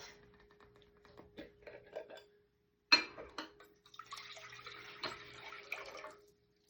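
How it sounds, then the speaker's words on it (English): Water poured from a tap or container into a pot, a steady splashing flow in the second half after scattered clinks and drips, close by with no talking. "what I'm going to do is I'm going to put my water in my pot."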